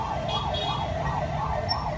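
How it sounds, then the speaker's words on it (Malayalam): An ambulance siren wails in a steady rising-and-falling cycle, loud and nearby, over low traffic rumble in Guwahati. "ഈ ആംബുലൻസ് എത്ര നേരമായി സൈറൺ ഇട്ട് ഇവിടുന്ന് പോകുന്നത്."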